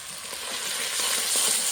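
Ground spices, coriander, turmeric, chilli and salt, fry in a pan for a Bengali fish curry with potato, beans and eggplant, making a soft, continuous close sizzle with faint stirring that slowly grows a little louder.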